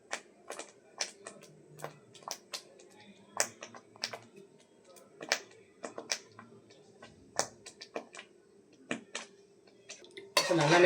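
A spoon clinks and scrapes against a pan while paneer butter masala with 200 grams of cubed paneer is stirred, in a steady series of sharp metallic taps up close, ending in a louder burst of sizzling.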